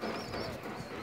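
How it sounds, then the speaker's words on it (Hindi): A pet pigeon gives a short, soft coo, faint and low against steady background noise. "ये मेरा कबूतर है"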